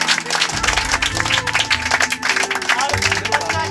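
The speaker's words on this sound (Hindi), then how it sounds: "जोरदार तालियां हो जाए" An audience of students claps loudly for a classmate ranked in a class results announcement, a sustained burst of applause with background music and some crowd voices mixed in.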